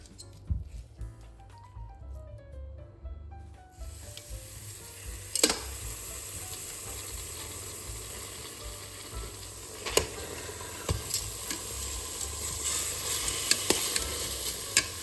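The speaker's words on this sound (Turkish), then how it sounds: "Şimdi eti buraya alıp yağsız bir şekilde mühürleyeceğim." Beef sears without oil in a Philips All In One Cooker, a steady sizzle running under occasional sharp clicks and stirring knocks, with a soft electronic beeping at the start before the frying settles in.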